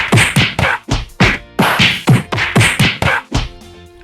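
A rapid run of sharp whooshing hits and thwacks, roughly a dozen punchy swipes in quick rhythm, loud and close, with no talking.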